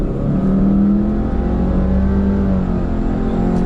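Turbocharged Kia Telluride family SUV with a CVT accelerating hard at full throttle from a standstill, a loud, steady engine drone holding a rising tone for several seconds.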